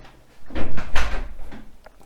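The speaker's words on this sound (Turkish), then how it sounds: "Hadi şimdi odaya Kapıyı kapa." A room door being shut indoors, heard as one solid thump with a short rattle, followed by a lighter knock and fading movement, fairly close and alone.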